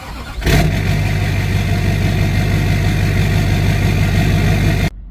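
A Duramax diesel truck engine fires up abruptly and settles into a loud, close, steady idle with a low rumbling chug before cutting off sharply at the end; no one talks.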